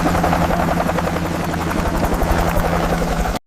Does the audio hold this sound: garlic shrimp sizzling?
no